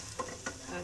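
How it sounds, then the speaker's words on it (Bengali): Salt, turmeric, chili and cumin powders frying in oil crackle with a soft, continuous sizzle and faint stirring scrapes, heard close and quietly in a brief moment. "এখানে লবণ, হলুদের গুঁড়ি, মরিচের গুঁড়ি, জিরের গুঁড়ি নিয়ে একটু তেলে ভাজতেছি"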